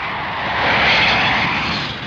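Engine of an approaching prototype aircraft over the desert, a steady droning roar that swells to a peak midway and eases slightly, heard alone without voices.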